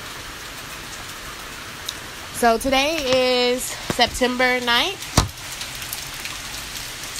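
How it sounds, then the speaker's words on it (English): Rain falls outdoors in nature with a steady, soft hiss throughout, while a person talks briefly over it. "I'm actually sitting outside in nature and it's raining."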